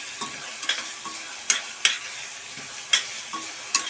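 Onions sautéing in a pan for a Kolhapuri chana dal curry, a steady soft sizzle broken by several sharp scraping stirs of a spoon against the pan.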